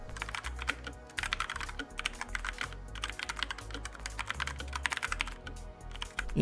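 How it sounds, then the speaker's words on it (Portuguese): Steady, fast typing on a mechanical keyboard fitted with quieter brown switches, a dense run of crisp, close keystroke clicks and thocks with no voices. "esse é um switch mais silencioso, que ainda retém as características mais interessantes de um teclado mecânico"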